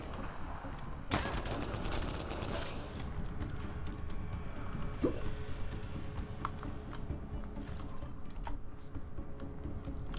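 Grenade blast and gunfire in the combat video game Mass Effect Andromeda: a sharp burst near the start followed by scattered rapid shots and clicks, moderately loud against a busy background.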